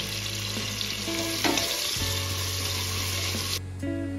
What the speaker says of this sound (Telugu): ఇక్కడ ఫ్రై అవుతుంది కదా